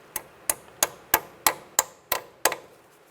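Eight sharp metallic taps, evenly spaced about a third of a second apart, drive a brake hose clip down into its bracket on a 2006-2009 Volkswagen Rabbit; close and crisp, each ringing briefly, with no talk.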